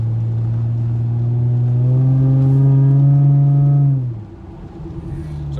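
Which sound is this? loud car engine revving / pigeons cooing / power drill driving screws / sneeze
loud car engine revving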